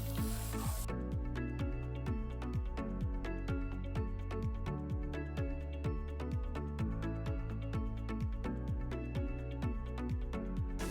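Steady spray of water hissing continuously onto the cast iron bed of a Shopsmith Pro Planer, with rapid rhythmic mechanical clicks running underneath throughout.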